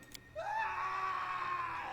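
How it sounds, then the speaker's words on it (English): A single drawn-out scream echoes down a hallway in a fantasy video game, rising sharply and holding as a long wavering cry that rings on with reverberation, loud and alone after a brief faint tap. "a scream echoes from the hallway"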